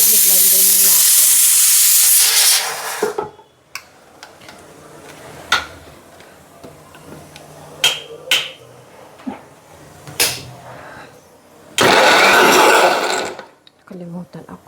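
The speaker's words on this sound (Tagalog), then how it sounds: "I-blender na natin." A loud blender blending curry paste whirs for a couple of seconds, stops, then after some clinks and taps roars again briefly near the end.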